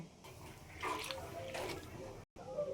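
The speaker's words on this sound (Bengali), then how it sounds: "তো এবার ডালটাকে ভালো করে একটু ধুয়ে নেব।" Chana and moong dal swirled and rinsed in water, close sloshing and splashing for a few seconds with a short break near the end, a voice faintly in the background.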